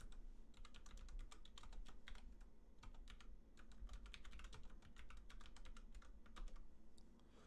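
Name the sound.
typing on a computer keyboard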